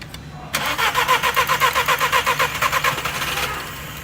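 A VW GTI engine cranks with a rapid, rhythmic starter churn for about three seconds and then settles into a steady idle, loud and close with no talk over it.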